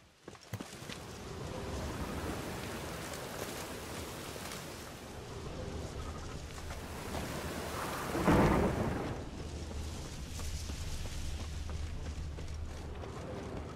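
Steady rain pours down in The Witcher 3 while a loud thunderclap rumbles through midway, followed by a low continuing growl of the storm.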